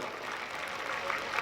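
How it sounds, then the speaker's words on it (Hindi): An audience at a religious discourse claps together in a steady, dense patter of applause that fills the whole moment at moderate volume, with faint crowd murmur underneath. "ताली बजाना"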